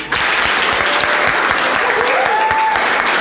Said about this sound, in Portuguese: Agora sim, uma salva de palmas para todos vocês.